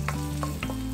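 Garlic frying in a pan over medium heat, a steady close sizzle with a low hum underneath and soft stirring scrapes, no voices.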